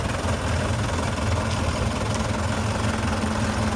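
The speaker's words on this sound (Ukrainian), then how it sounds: "І зараз ще спробуємо на першій повишеній, яка буде різниця. От, трактори стартанули." Steady, loud rumble of DF 404, DF 404G2 and Scout TY404 tractor diesel engines running together as they start pulling, a constant low throb with no talking.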